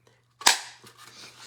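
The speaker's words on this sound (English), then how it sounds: "now I'm going to use this bow punch" A bow-shaped paper punch snaps through a sheet of watercolor paper with a single sharp, crisp click-snap, followed by a faint rustle of paper, close and isolated against a low steady hum.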